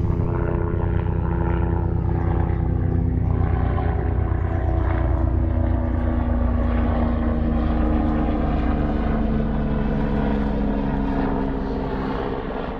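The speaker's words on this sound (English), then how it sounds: "sorry about the helicopter." A helicopter flies overhead beside a fishing lake, its steady rotor and engine drone loud and constant throughout, with no voices.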